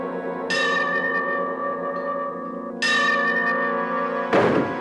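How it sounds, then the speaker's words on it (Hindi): A bell inside a house, rung by pulling a rope in a horror drama, strikes twice with bright, resonant clangs whose ringing tones hang and slowly fade, followed by a dull thump. "वो इधर सोफे पे बैठकर रस्सी को खींचेगा और अंदर बेल बजेगा"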